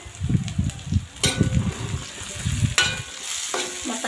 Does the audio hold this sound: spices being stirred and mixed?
yes